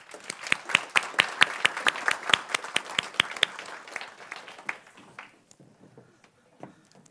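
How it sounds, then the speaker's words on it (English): Applause from a panel discussion audience, starting as a brisk run of distinct nearby claps, then thinning to a few scattered claps as it dies away. "Let's have a little applause."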